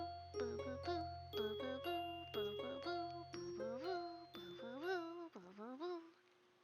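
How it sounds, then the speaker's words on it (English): School bell chime in the visual novel game Katawa Shoujo, a sequence of clear ringing bell tones in a descending and rising melodic pattern over a low hum, fading out at the end. "The bell rings before Misha can reply"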